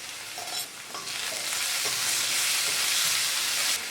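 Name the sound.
sautéing crushed shallots and curry leaves in pan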